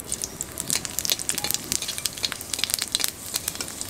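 Panch phoron five-spice mix with a dried red chilli sizzling in a small amount of hot mustard oil in a pan, a close, busy crackle of rapid pops over a steady fry hiss, no talking.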